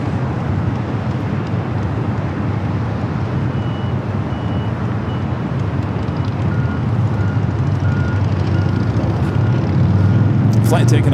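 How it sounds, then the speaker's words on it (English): A Delta Airbus A321neo jet taking off at LAX, a steady, loud broadband engine roar that holds throughout with a slight swell near the end. "taking off. It's Delta Flight 718 heading to Orlando, Florida to A321 NEO."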